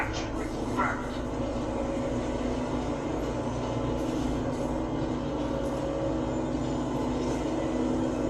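A steady, loud rumble of a moving train in the video game Batman: Arkham Knight fills the scene continuously, a dense rolling drone with no breaks, while a voice speaks over it.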